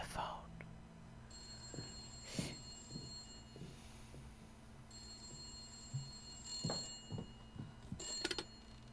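An old-style telephone bell rings in two long bursts inside an FMV video game, set against a low steady hum with soft, faint clicks and rustles between the rings.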